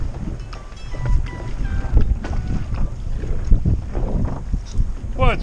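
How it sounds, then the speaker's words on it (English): Strong wind buffets a small fishing boat out on Lake of the Woods, a steady rumbling gust noise with water slapping the hull, continuous and loud throughout, with some indistinct voices mixed in. "it's windier than I thought it was supposed to be"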